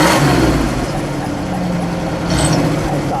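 A 1967 Mercury Cougar GT hardtop with a 390 V8 and four-speed runs loud and close, its engine rumbling heavily and swelling with a rev, a voice partly mixed in.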